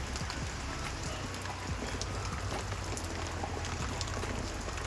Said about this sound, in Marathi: बघा तुम्ही आता पाऊस किती सुरू आहे मोठा